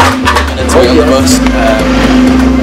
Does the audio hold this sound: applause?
no